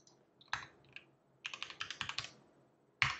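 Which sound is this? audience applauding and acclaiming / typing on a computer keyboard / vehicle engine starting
typing on a computer keyboard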